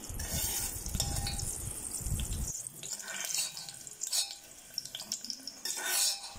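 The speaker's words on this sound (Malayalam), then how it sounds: "അതിൽ നമ്മൾ ആദ്യം ഈ ഉണക്കമുന്തിരി ഒന്ന് വറുത്തെടുക്കുകയാണ്" Raisins fry in hot fat in a pan for paneer rice, giving a close, steady sizzle with scraping stir noises and crackles, no talking.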